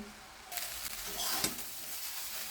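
Spice mixture being stirred into rice in a hot pan for lemon coriander rice, with a steady sizzle and scraping stir that starts abruptly and continues without talk.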